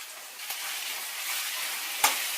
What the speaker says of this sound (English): make sure you stir and fry it properly